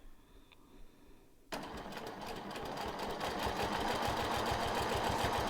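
A sewing machine starts up and stitches steadily around a marked dot on fabric, its rapid needle chatter close and continuous, building slightly in speed after a quiet start.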